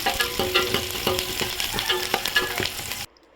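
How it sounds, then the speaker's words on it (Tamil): Shallots sizzle and fry in a pan for fish curry, with the crackle of frying broken by repeated stirring scrapes at a close, moderate level before cutting off abruptly. "சின்ன வெங்காயத்தை போட்டால் நல்லா வதக்கணும்"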